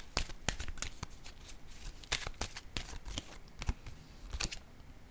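Tarot cards shuffled and drawn by hand, a run of close, crisp riffling flicks and snaps with irregular rhythm, fairly quiet and without talk.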